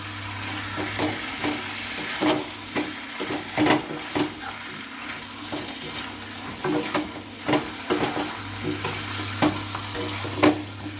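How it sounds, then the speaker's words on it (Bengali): Chicken feet and gizzard-liver with spices sizzle steadily in a pan while a spoon stirs and scrapes in irregular strokes, the frying hiss constant and close with a low hum beneath. "এবার ভালো করে নাড়ি ছাড়িয়ে নিতে হবে যাতে মশলা সমগ্র অংশে পৌঁছে যায় ঠিকমতো।"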